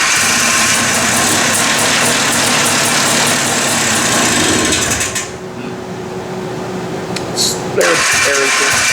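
A rebuilt Arctic Cat 250 Trail Blazer engine idles loudly and close by with a buzzing, slightly uneven putter, then drops lower and quieter partway through while people talk nearby.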